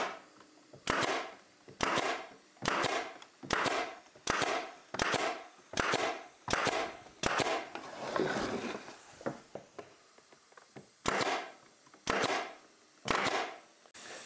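An air stapler fires staples into wooden beehive brood frames in a steady series of about a dozen sharp, loud, close pneumatic bangs roughly one per second, each followed by a brief hiss of air.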